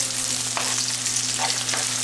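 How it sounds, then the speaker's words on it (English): Chopped onions sautéing in a pan for a chettinad chicken curry, a steady dense sizzle throughout with a faint low electrical hum beneath and a few soft stirring touches. "Saute it nicely until they get slightly transparent or slightly golden color also."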